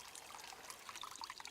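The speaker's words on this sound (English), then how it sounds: "Hidden in there you can see and hear a sluice." Water pours and trickles through a canal sluice in a faint, continuous wash with small splashing bubbles, heard from a short distance outdoors.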